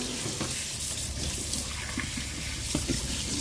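Water runs continuously from a kitchen tap while things are washed, a steady close rushing with small splashes and clatters throughout.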